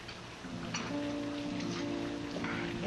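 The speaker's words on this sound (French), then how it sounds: "La pluie finit toujours par te rattraper." Steady rain falls, a dense, even hiss that slowly swells, with faint tonal hum underneath and no voices.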